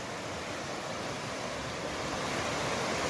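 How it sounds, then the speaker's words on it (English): Steady broadband rush of the North Fork of Asotin Creek running strong, a continuous close water wash with no voices. "Here's the creek."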